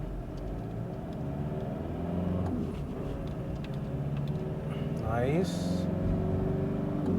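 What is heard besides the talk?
2011 Chevrolet Tavera accelerating on highway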